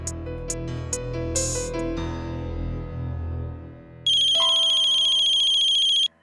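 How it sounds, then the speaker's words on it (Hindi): A phone ringtone plays loudly, a melodic electronic tune that ends with a bright, steady ringing tone before cutting off. "रोहित को फोन कर लेता हूँ।"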